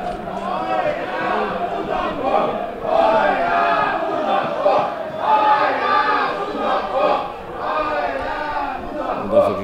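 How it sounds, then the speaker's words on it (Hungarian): Football stadium crowd roaring and chanting during a match as an attacking chance forces a corner, a dense continuous wall of voices that swells and surges louder in waves throughout. "Közönség hangja most erősebb"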